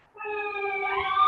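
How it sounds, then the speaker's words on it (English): Ambulance siren going by outside, a clear tonal wail rising in pitch and growing steadily louder over a brief stretch, with no talk over it. "JC, I think you might have some ambulances and stuff going by"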